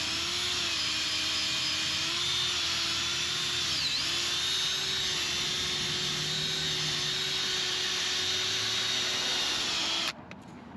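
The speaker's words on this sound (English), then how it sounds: "Next step is your drill for your wheels." A power drill with a cleaning brush scrubs car wheels, giving a steady, loud, high-pitched whine that holds for about ten seconds before cutting off abruptly.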